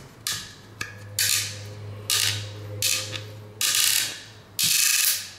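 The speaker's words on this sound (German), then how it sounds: "Und jetzt dreht sich die Schraube schon wieder durch" A screw being turned into a Nerf Stryfe blaster during a full-auto bullpup kit install, with repeated short ratcheting bursts of a screwdriver, about seven clicking runs in a steady rhythm, close and fairly loud over a low hum.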